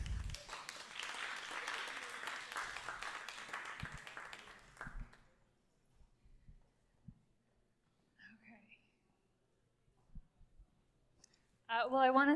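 Audience applause welcoming a speaker, a moderate round of clapping that lasts about five seconds and fades out, followed by quiet footsteps and small shuffling noises before a voice begins speaking.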